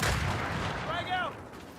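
Frag grenade explosion in the Gears 5 video game, a dull blast at the start of a busy firefight, moderately loud, with a voice calling out partway through.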